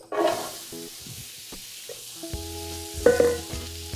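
Mirepoix hits the hot pot for braised brisket and fries with a steady sizzle, broken by a few stirring scrapes and light clinks of the spoon against the pot. No one speaks.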